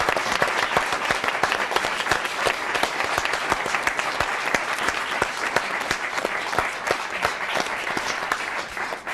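A studio audience at a televised congressional debate gives the candidates a sustained round of applause, a dense, even wash of many hands clapping steadily for several seconds, with a faint voice underneath.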